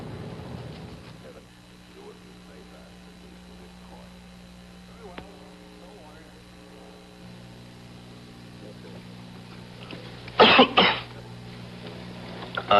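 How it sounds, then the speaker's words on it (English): Coughing in a Vicks Formula 44 cough medicine commercial: a quiet, low-level stretch then a short cluster of sharp, loud coughs near the end. "When you've got a cough from a cold and you can't suppress it yourself, you need a strong cough medicine"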